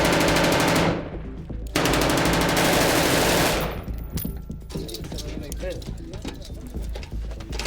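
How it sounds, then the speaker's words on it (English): Machine guns lay down suppressing fire against snipers during combat around Kandahar, with long sustained bursts broken by brief pauses, loud and close, followed by quieter scattered shots and background talk. "they're laying down suppressing fire against snipers"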